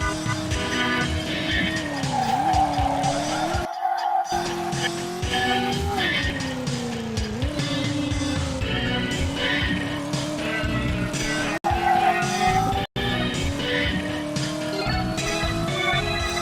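Video game car racing with engine drone rising and falling and repeated tire squeals, steady and loud throughout, cutting out briefly a few times, with no talking over it.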